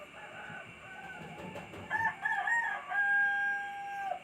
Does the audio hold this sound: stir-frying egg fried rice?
no